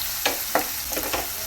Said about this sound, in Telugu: అలాగే కరివేపాకు, ఇది చక్కగా ఫ్రై చేసేసుకోవాలి. గోల్డెన్ బ్రౌన్ కలర్ వరకు ఫ్రై చేసుకోవాలి.